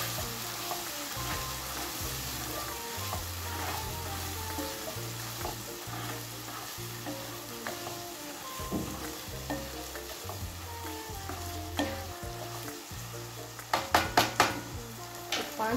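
A green moong sprout mixture sizzles softly in a pan while a spoon stirs and scrapes in a steady rhythm, with sharper clinks toward the end, close and quiet with no voices.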